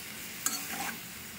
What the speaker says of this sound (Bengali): একটু আদা, কাশ্মীরি লঙ্কার গুঁড়ো, জিরে ধনিয়া দিয়ে ভালো করে মিটা দিয়ে কষিয়ে নেব